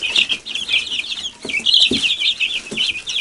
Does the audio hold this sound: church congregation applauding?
no